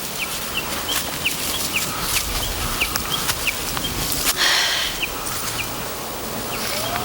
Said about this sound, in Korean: 예쁜 새소리다.